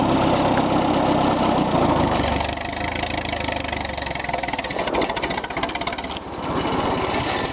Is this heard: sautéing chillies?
no